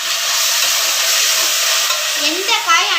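Onion, cashews, cinnamon, cloves and green chilli sautéing in a pan for mushroom biryani, giving a steady, close, loud sizzle with bright hiss throughout and a little stirring near the end.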